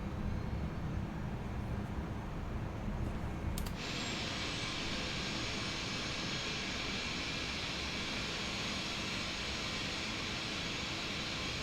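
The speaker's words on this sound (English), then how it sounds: "So, engine 3 and 4 start." Airbus A380 jet engines 3 and 4 spool up in a flight simulator, a continuous loud whine and roar that brightens sharply partway through and then holds steady, with no talking.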